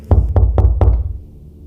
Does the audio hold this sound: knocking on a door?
yes